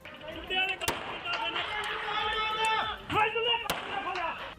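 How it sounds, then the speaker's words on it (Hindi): Two sharp gunshots crack out a few seconds apart over a steady din of voices talking in the background. "इसके बाद कुछ देर तक केवल गोलियों की आवाज गूंजती रही।"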